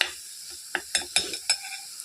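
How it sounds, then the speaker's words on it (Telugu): Soft sizzling of lentils frying in a pan, with a few sharp scraping stirs, quiet and close, no voices. "పప్పుని బాగా వేగాలండి"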